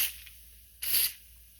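Spray starch misted onto a decoupage napkin: a brief soft hiss at the start, then a second, stronger spray burst lasting about a third of a second, with near silence around them.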